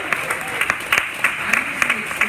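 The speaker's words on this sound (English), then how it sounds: "Let's give these guys a big round of applause." A crowd at a Startup Weekend event in Columbia, Missouri claps for the organizers, a dense, steady burst of close applause lasting a couple of seconds.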